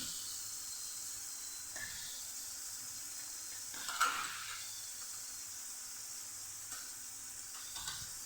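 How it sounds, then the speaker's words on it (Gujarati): Tomato, turmeric and coriander-cumin powder sauté in oil for a Kathiyawadi chickpea curry, giving a faint, steady sizzling hiss with a few soft stirring scrapes. "બધું સરસ આપણે સાતળી લઈશું। ટમેટા સરસ સતળાઈ જાય, તેલ આપણું છૂટું પડે"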